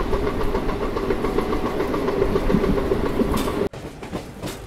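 Coromandel Express running through Gudur station, a steady loud rumble and clickety-clack of wheels on rails from on board, ending in a sudden dropout before the rolling noise resumes more faintly.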